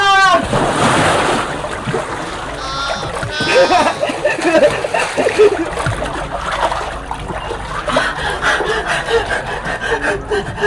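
Someone jumping into a cold outdoor swimming pool, a loud close splash followed by churning, sloshing water, with voices faintly under it.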